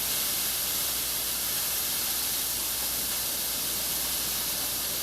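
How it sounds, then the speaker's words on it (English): Steady broadband hiss of steam in a commercial kitchen beside a flat top, a continuous even rush that holds at the same level throughout with no voices. "Get another shot of steam."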